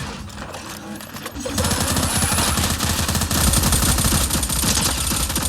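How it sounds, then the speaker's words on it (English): Rapid automatic gunfire, a dense, loud stream of shots that starts after a brief quieter lead-in and continues without pause to the end. "Wow, Rob, what are you shooting at?"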